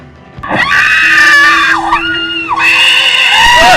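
A recording of screaming is played: a loud, shrill scream rings out, sustained and wavering, then a second high-pitched shriek follows.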